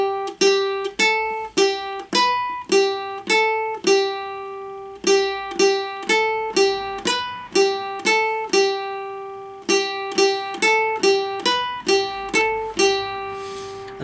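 A ukulele plays the intro riff of a song, single plucked notes in a steady repeating pattern, close and clear and alone, each note ringing and decaying before the next.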